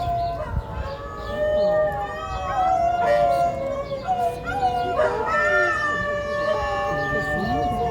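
Several dogs howl together in long, wavering, overlapping tones, with occasional yips mixed in, sustained throughout.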